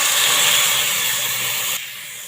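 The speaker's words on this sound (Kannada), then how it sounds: "ಒಂದು ದೊಡ್ಡ ಟೊಮೊಟೊ ಹಾಕ್ತಾಯಿದ್ದೀನಿ" A large tomato hits hot oil in a pan with grated coconut for a mixed vegetable sambar, giving a loud, steady sizzling hiss that drops in level near the end.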